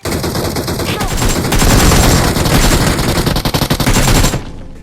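Groza assault rifle firing in PUBG Mobile (BGMI) on the Livik map: loud, sustained automatic bursts of rapid close shots that run for about four seconds and then stop abruptly.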